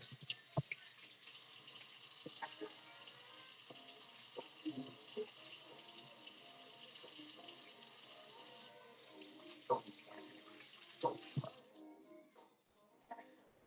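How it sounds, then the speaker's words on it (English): Hands rinsed under a running kitchen tap: a steady close hiss of flowing water for about nine seconds, then the tap shuts off, followed by a few clinks and dripping sounds. "Just rinse off my hands real quick."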